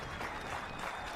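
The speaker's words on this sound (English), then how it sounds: "The South Sevier crowd trying to cheer on their pitcher with a full count." South Sevier fans cheer and clap at a 2A high school baseball championship game against Kanab, a brief, dense burst of crowd applause and noise.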